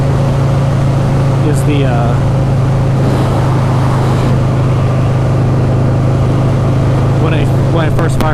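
A 2004 Buell XB12S motorcycle engine idles roughly and steadily throughout, with a low, constant drone and a voice talking over it.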